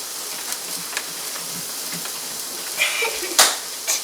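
A grilled cheese hotdog sandwich sizzling in a pan, a soft steady hiss with occasional sharper crackles and pops, rather quiet and close.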